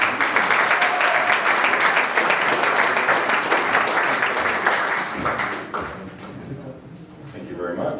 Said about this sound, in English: So let's have a round of applause for our final speaker